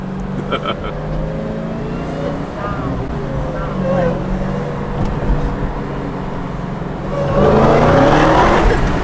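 A Dodge SRT Hellcat Redeye spins its tires, a loud continuous engine roar and tire noise that swells sharply near the end, with people talking over it close by.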